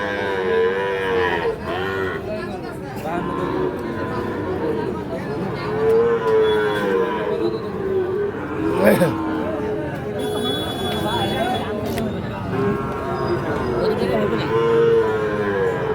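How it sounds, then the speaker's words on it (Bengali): Sahiwal bull calves, about eight to nine months old, moo at a busy cattle market, with repeated lowing over constant crowd chatter and nearby talk. "এই যে এই জোড়াটা এক একটা 8 থেকে 9 মাস করে হয়তো বা বয়স হবে। শাহিওয়াল ষাঁড় বাচ্চা।"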